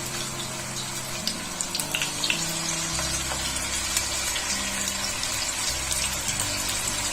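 Chicken pieces for garlic chicken fry in hot oil in a pan, a steady crackling hiss with a few louder pops, close and continuous throughout, with a low hum underneath and no talking.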